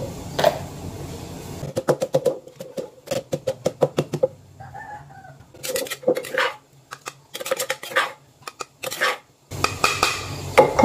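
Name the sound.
pounding chilies in a mortar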